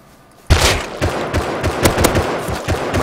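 AK rifle gunfire in the survival video game Rust opens abruptly after a quiet moment, then continues as rapid, loud, close bursts of shots with no talking.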